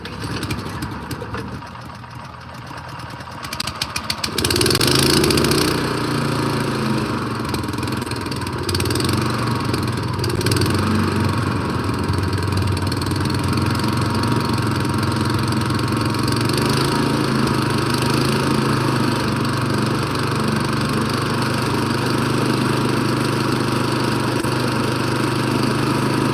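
A Craftsman 179cc engine on a 24-inch two-stage snow blower runs with a steady, loud mechanical drone close by, after a quieter first few seconds before it settles into a constant running note.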